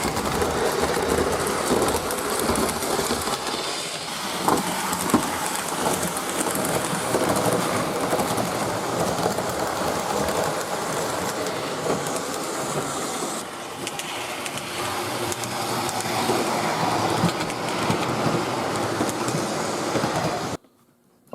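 A K-Line Conrail O gauge model train with a railroad police caboose runs steadily for about twenty seconds, a continuous close whirring rumble with faint clicking from the track, stopping abruptly at the end.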